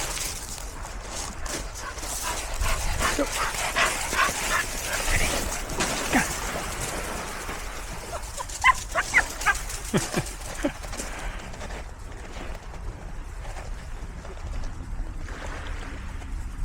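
A dog gives excited high-pitched squeals and yips while running, set against outdoor rustling and water-like noise.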